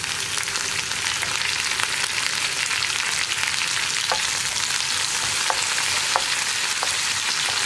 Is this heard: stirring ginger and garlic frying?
yes